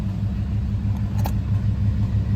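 A 1985 Chevrolet Monte Carlo SS with about 45,000 miles idles after a cold start in a garage, a steady low rumbling engine note with a faint click near the middle.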